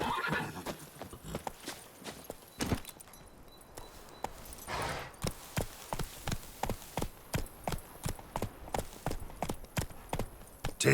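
Roach, a horse in The Witcher 3, neighs near the start, then her hooves clip-clop in a steady, even rhythm that gets louder and more regular toward the end. No one speaks.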